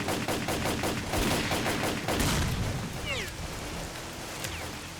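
Loud, dense gunfire from the S.T.A.L.K.E.R. Call of Pripyat video game, with rapid repeated shots and bursts running continuously and a brief high ricochet-like whine in the middle.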